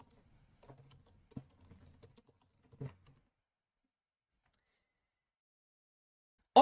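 Keyboard typing while entering a description in the Harpy app: a quiet, scattered run of soft key clicks in the first three seconds, then silence, with no talking.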